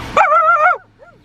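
A little puppy gives one sharp, whiny yip-bark close by, followed by a fainter short whimper, with no talk over it.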